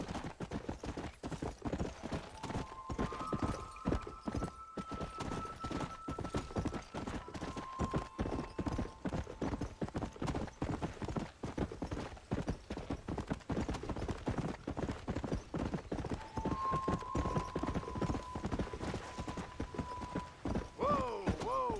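Horse hooves clip-clop in steady rhythm through the Red Dead Redemption game world, continuous and close, with faint tonal game sounds and a creak near the end.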